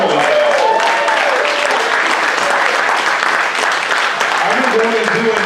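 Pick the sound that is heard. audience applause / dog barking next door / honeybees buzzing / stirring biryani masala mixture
audience applause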